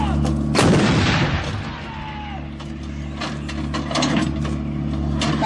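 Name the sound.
artillery gun with automatic loading system firing three rounds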